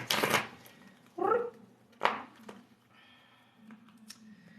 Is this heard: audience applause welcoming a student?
no